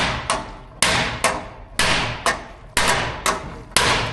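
A hand hammer strikes a metal panel set into a bowl carved in a wooden dishing stump, about nine sharp, ringing blows in a steady, slightly uneven rhythm, loud and close with no talk.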